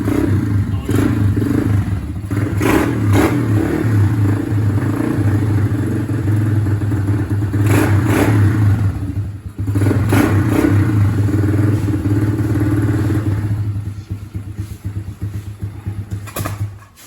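An RPS 110 pit bike engine idles steadily, a close, even, throbbing hum with a faint clatter that holds for the whole stretch, dipping briefly near the middle and easing slightly toward the end.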